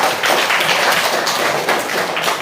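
Classroom of students clapping together, a dense, fast patter of many hands filling the room at close range with no talk over it.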